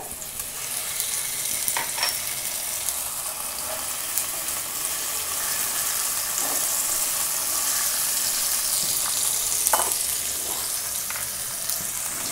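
Onions with ginger, garlic and cumin pastes frying in hot oil for a Bengali rohu fish curry: a steady, loud hiss of sizzling throughout, broken by occasional soft stirring knocks.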